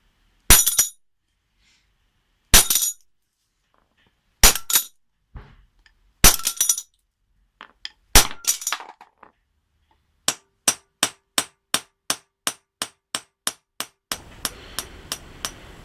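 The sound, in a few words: hammer striking a nut on pliers pivot on metal block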